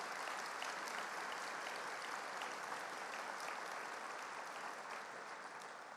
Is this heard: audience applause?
yes